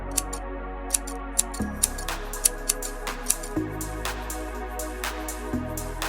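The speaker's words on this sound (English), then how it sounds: "Use scissors to cut off the excess." Scissors trim excess purple fabric, giving a run of small, crisp snips in a steady rhythm over background music with a steady tone. There is no speech.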